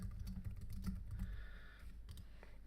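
Quiet typing on a computer keyboard, a steady patter of close key taps lasting a few seconds with no speech.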